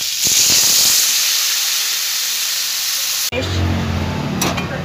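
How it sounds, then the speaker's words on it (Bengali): Water hitting a hot pan of Bengali fish curry with stalks (data machher tarkari) sets off a loud, steady hissing sizzle that cuts off abruptly, followed by quieter bubbling and low kitchen noise. "তরকারিটা পরিমাণ মতন জল দিয়ে দিলাম"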